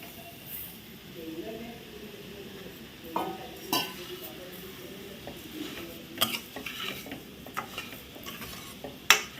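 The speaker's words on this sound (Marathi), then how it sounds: "हे असं ढवळून आपण आता याचं सारण करून घेऊया" Fresh grated coconut and sugar are stirred in a pan as a sweet filling, giving a soft low sizzle with irregular scraping and clinks of a spoon against the pan.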